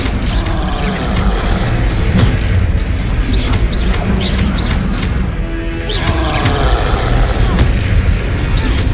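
Combat in Hogwarts Legacy, with repeated heavy booming spell blasts and impacts over a dense, loud rumble of battle noise, some sharp bursts standing out and no clear talk over it.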